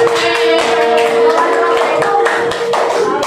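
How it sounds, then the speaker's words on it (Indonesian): Loud, dense applause from a classroom group honoring a presenting team, continuous clapping close by that holds steady throughout with a faint tonal hum beneath. "Beri tepuk tangan lagi untuk rombongan"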